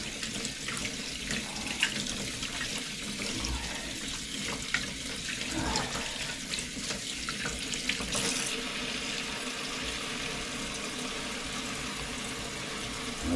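Water runs from a tap into a basin, filling it in a continuous, gently splashing stream for about thirteen seconds, quiet and steady with no one speaking.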